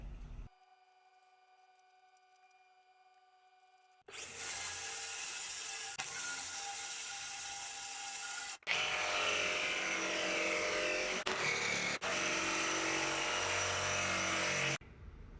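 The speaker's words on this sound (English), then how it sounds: "get out the jigsaw and start cutting" Jigsaw cutting a van floor panel: a loud, steady, buzzing reciprocating saw runs continuously for several seconds, stops briefly, then resumes for a longer cut before cutting off.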